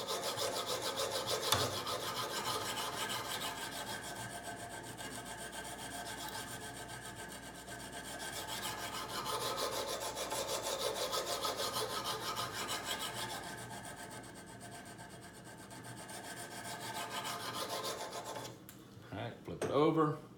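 An old work knife is stroked against the stone of a Kazak UBR sharpening system, a continuous close rasping grind with slight swells in intensity, ending in a few clicks and handling knocks.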